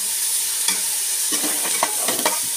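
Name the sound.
stirring chicken in a pot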